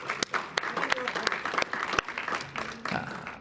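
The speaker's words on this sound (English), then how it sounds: "big round of applause for these guys in the front there" Audience applause for youngsters at a 2014 interfaith dialogue gathering: dense, steady clapping from a crowd that fills the whole stretch, with a few sharper individual claps standing out.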